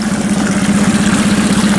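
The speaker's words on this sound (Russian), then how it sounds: "Ну, лодка под мотором делает первые шаги." An outboard motor drives an Allaska 460 PVC inflatable boat on the water, its engine droning steadily at idle to low speed with a continuous low hum and no talking.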